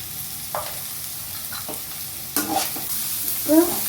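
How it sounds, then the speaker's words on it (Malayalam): Vegetables sautéing with salt and pepper in a pan for noodles give a quiet sizzle, broken by several sharp stirring scrapes that grow louder toward the end. "നമുക്ക് പച്ചക്കറിയൊക്കെ നല്ല രീതിക്ക് വഴണ്ട് വരുന്നുണ്ട്"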